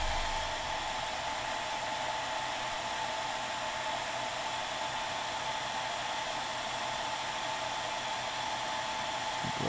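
A hair dryer blows steadily and close throughout, a continuous loud airy roar with a faint whine, used to dry layers of wet-blended paint while brushing a miniature.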